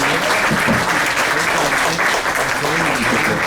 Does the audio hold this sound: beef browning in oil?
no